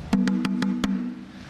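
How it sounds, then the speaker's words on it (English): Five sharp strikes on a shime taiko, a tightly tuned small Japanese drum, each with a ringing mid-pitched tone that sustains and fades after the last hit. "these two are both shime"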